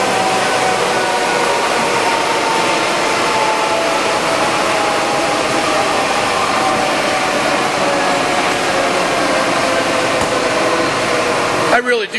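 A used Lodge & Shipley 24 by 78 inch standard engine lathe runs at 1740 RPM, giving a loud, steady whine and hum that holds without change until a brief clatter at the very end.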